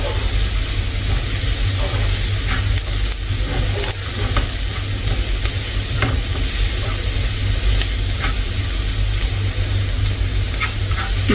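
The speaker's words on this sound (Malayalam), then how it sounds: "നമ്മൾ ഇഞ്ചി ഇട്ടെടുക്കുന്നുണ്ട് വെളുത്തുള്ളി ചതച്ചതും കൂടെ ഇട്ടെടുക്കുന്നുണ്ട് നന്നായിട്ടൊന്ന് വഴിച്ചെടുക്കാം" Ginger and crushed garlic sautéing in a hot pan, giving a steady, close sizzle with intermittent stirring scrapes throughout and no talking.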